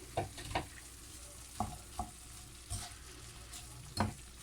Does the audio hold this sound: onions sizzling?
yes